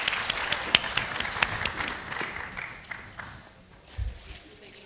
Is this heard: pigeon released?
no